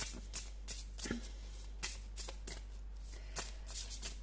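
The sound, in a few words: shuffling and drawing tarot cards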